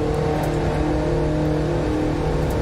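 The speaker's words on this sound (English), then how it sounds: "I can barely hear the engine noise." Steady engine and road drone from an Audi TT cruising at about 135 mph in The Crew 2 racing game, heard from inside the car as a constant, muted hum with no talk.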